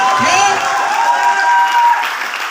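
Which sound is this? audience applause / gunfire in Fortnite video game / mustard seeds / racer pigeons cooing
audience applause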